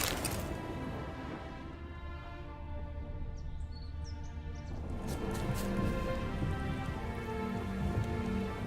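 Rain falls steadily in a video game, a dense continuous patter of drops at constant volume, with faint bird calls briefly mixed in.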